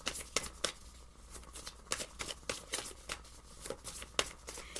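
Tarot cards riffle and snap in repeated quick bursts, a close, steady shuffling rhythm with crisp papery slaps and no voices.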